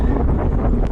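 Loud, blustery wind buffets the microphone in a continuous low rumble, dense and roaring for the whole brief moment, during a bike ride.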